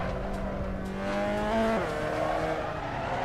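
A Mazda MX-5 skids in a racing simulator game, its engine droning loudly while a tire squeal rises and bends in pitch, then settles back into steady engine noise.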